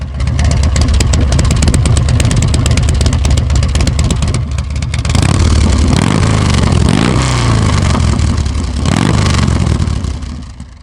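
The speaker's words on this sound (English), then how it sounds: "But listen to the exhaust note on this thing." A 1985 Harley-Davidson FXSB motorcycle runs loud and close, its kick-started, high-compression engine giving a deep, lumpy exhaust note that swells with several revs and settles back, with no voices.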